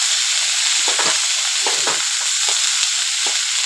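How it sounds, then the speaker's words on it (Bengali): Dandakalas greens frying in a pan, a loud continuous sizzle with several scraping stirs of a spatula breaking through at irregular moments, close, with no talking. "এখন দিয়ে দিব দণ্ডকলস। এটা এখন একটু ভেজে নিব।"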